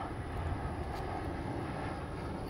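An airplane flying in to land at Dallas, Texas makes a steady, broad engine rumble with wind noise, continuous and fairly loud without clear change over the short stretch.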